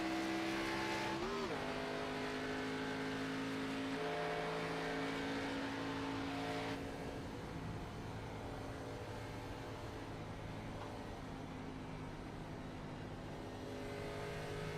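Gen 6 Cup Series race cars at the Kansas racetrack, a steady droning engine roar with pitch shifts as cars accelerate and pass, loud and continuous throughout with crowd ambience beneath.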